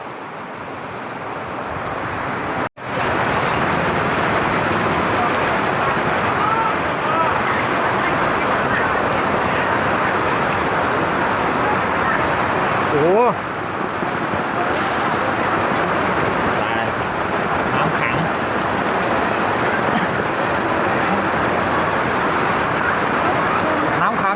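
Steady rain pours at an outdoor Thai market as a dense, unbroken wash of hiss, loud and close throughout, with a brief dip near the start.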